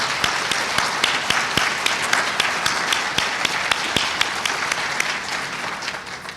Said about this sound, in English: Please stand so we can applaud for you.